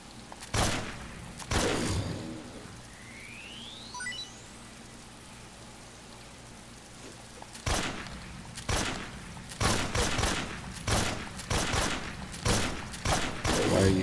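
Semi-automatic gunfire in the video game Snake Eater comes as sharp, loud single shots, a couple early and then a quicker run of spaced bursts near the end, with a brief rising whistle in between.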